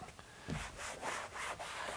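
A cloth wiping detailing product off piano black car trim, soft rhythmic rubbing strokes, faint and close, with no talk.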